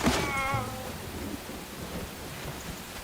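Rain and a thunderstorm in the video game Enshrouded make a steady wash of falling rain with low rumbling thunder, while a short tonal cue rings out at the start.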